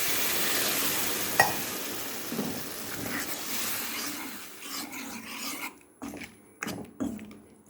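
Ingredients sautéing in a pan for a drumstick-leaf dal dish, a steady frying sizzle with scraping spoon strokes that thin out into intermittent stirs and clinks toward the end.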